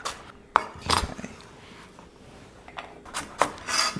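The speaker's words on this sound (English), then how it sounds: "Cutting my carrots pretty thin just so they'll cook through" A knife slices carrots thinly on a cutting board, giving a few sharp, separate knocks and scrapes against the board with quieter rubbing between them, all close by.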